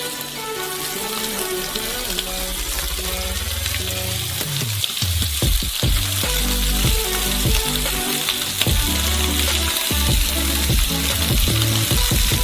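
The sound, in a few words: frying dough crust on stove at maximum heat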